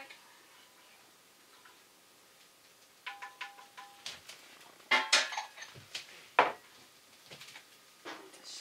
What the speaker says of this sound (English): I'm going to give it a little stir real quick